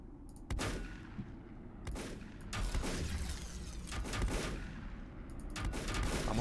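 Gunfire striking the player in the volcanic survival game Volcanoids, dense bursts of booming shots and impacts coming in waves over a rumbling mechanical background, loud and continuous.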